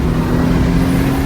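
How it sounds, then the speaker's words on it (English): A Mitsubishi 3000GT VR4 turbo engine is accelerating, a loud, close, steady droning roar with a strong low hum throughout. "Turbo kicking."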